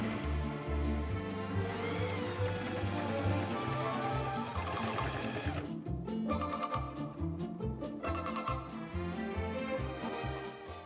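A sewing machine stitches through layered quilted fabric and grosgrain ribbon, a close, rapid mechanical chatter running steadily with brief pauses and restarts near the middle.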